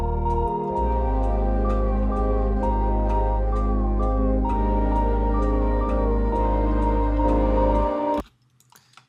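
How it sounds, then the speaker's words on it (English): A loud lead synth melody sits on top of a full song mix with bass and organ, looping a short bright phrase over steady ticking percussion before cutting off abruptly near the end. "And then that little melody synth that's really loud in the mix."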